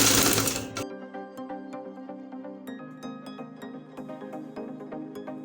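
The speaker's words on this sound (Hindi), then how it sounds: "यहाँ से हमने पक्का कर लेना है सिलाई को अच्छी तरह" Sewing machine stitching a gents' collar band with buckram, a steady rapid mechanical whirr with rhythmic needle clicks, close and continuous after a brief loud burst at the start.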